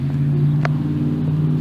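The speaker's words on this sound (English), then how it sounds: "Sounds like a car." A car engine in a video game gives a steady, low, humming drone throughout, with one brief soft transient partway through. No talk is heard over it.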